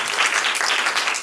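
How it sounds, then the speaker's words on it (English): Audience applause after a good question at a pastor's academic empowerment talk, a dense, steady patter of many hands clapping close by for just over a second, with no voices. "Give her a clap for a good question."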